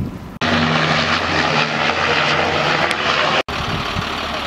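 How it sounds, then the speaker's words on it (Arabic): A Canadair firefighting aircraft passes over a wildfire at Douar Taria, Larache province, its loud, steady propeller-engine drone filling the scene, with brief cutouts between segments. "إذا تدخلت طائرة كندير ويعني قامت بإخماد الحرائق التي اشتعلت قبل قليل"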